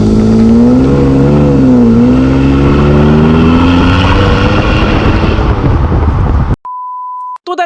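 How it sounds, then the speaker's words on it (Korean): A Chevrolet Colorado pickup with a naturally aspirated engine, its exhaust loud and close with a deep, rising and falling drone as the engine revs, then cut off abruptly before a steady electronic beep. "4기통 터보 엔진 차량에서는 그 느낄 수 없는 그런 여유로운 배기음이 트럭답지 않게 나오고 있고요"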